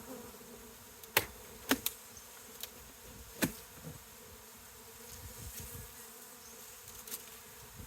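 Honey bees buzz steadily around an opened hive lid, a soft continuous hum with a few sharp knocks and taps from handling the hive.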